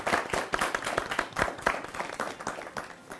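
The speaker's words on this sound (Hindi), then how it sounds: "पहले तो आप लोग अपने लिए तालियां बजाएं।" An audience claps in dense, steady applause on a Pakistani TV cricket talk show, many hands striking quickly for a few seconds at close range with no speech over it.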